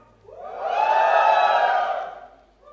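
A crowd gathered for a Poco X2 phone launch in India lets out one loud, unified cheer that swells over about two seconds and then fades, with no other sound around it.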